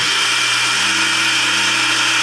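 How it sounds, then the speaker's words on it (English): NutriBullet blender running at full speed while blending dry pancake mix with oatmeal, a loud, steady motor whine with a constant high-pitched hum and no talking. "we're going to lid it, slap it on our little NutriBullet thing,"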